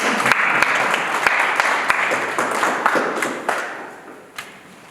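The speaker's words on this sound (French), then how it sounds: "applaudissez" Audience applause at a municipal election candidates' debate in Fribourg, a dense clapping crowd with a few sharp individual claps standing out, fading away steadily toward the end, with one last clap.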